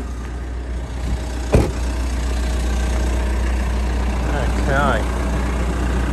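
A 2016 Mitsubishi Triton pickup engine idling with a steady low rumble and a faint thump partway through. A voice speaks briefly over it.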